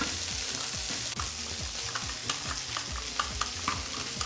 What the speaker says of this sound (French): moi j'en profite pour touiller ma vinaigrette